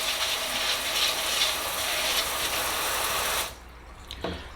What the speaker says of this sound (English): you're gonna just be spraying this plant down